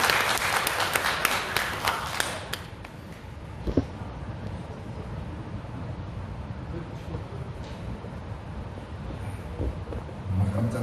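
A church congregation claps together in sustained applause at a thanksgiving service with an infant baptism, loud and dense at first, then settling into a steadier, softer wash of clapping that carries on throughout.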